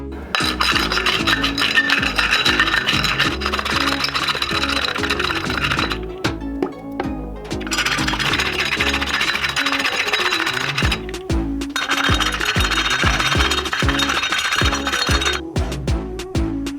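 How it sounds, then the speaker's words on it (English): A wallpaper scorer is rolled over red wine bottle labels in quick repeated rasping, clicking passes, a loud close-up scratching rhythm broken by a few short pauses, with no talking. "We'll try to perforate the labels with a wallpaper scorer and try again."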